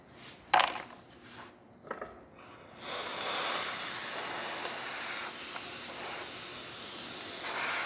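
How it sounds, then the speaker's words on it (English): A La Pavoni espresso machine's steam wand opens after a few metallic clinks and gives a loud, steady hiss for about five seconds, close by with no talk. "And the steamer works well too."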